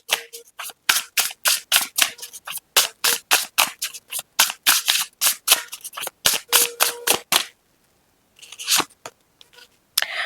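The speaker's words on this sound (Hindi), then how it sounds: "और भी इस नेक्स्ट मूव को लेकर हम कार्ड्स निकालेंगे।" Tarot cards are shuffled in a rapid run of crisp, close riffling slaps and snaps, a brief pause, then a few more card flicks.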